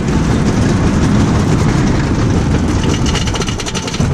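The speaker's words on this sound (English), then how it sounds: "Here we go then, on Wodan Timber Coaster." Wooden roller coaster train on the Wodan Timber Coaster at Europa Park, heard from near the front: a loud, steady roar and rumble of wheels on the timber track, continuous throughout with rattling clatter building toward the end.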